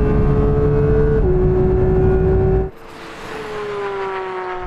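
A BMW M4 CSL and a Porsche 911 GT3 accelerate hard in a second-gear roll-on from 40 during a drag race, one loud engine note rising steadily until it cuts off abruptly, then a quieter engine continues to climb in the distance.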